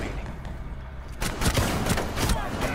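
Rapid bursts of gunfire in a shooter video game, a loud rattle of shots that starts after a brief quieter lead-in, with a voice briefly heard.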